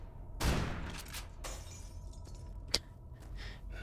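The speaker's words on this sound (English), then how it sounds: "It's the sound of my gas mask shattering under the immense pressure of all this" A gas mask shattering in the video game Dead Air under heavy toxic gas pressure, a sharp burst of breaking glass followed by scattered crackles and a brief sharp snap, heard alone over a low rumbling background.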